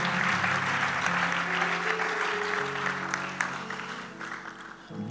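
A church congregation claps loudly at a sermon, with steady dense applause sustained for several seconds before tapering off, backed by a low organ-like tone.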